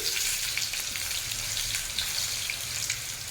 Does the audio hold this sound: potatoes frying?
yes